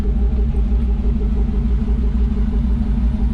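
Car engine idling with a deep, steady rumble, loud and close, the low throb continuing evenly with no voices over it.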